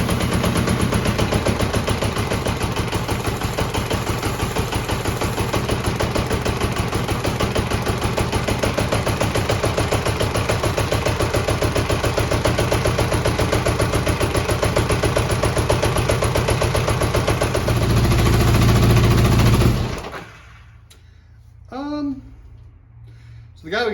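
A 40-year-old Honda GL1100 motorcycle engine runs rough, a loud, close, uneven chugging roar held for about twenty seconds before it suddenly cuts out, leaving a few faint knocks and quiet sounds.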